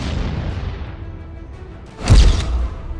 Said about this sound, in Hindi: 150 किलो वॉरहेड के साथ इसका धमाका किसी भी टारगेट को तबाह कर सकता है।